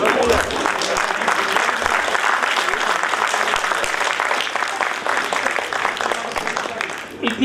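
Audience at a Hindi kavi sammelan poetry gathering applauding a newly introduced host, sustained crisp clapping from many hands that carries on for several seconds before tapering off near the end.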